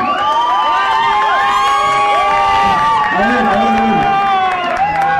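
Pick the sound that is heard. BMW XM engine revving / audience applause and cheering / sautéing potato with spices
audience applause and cheering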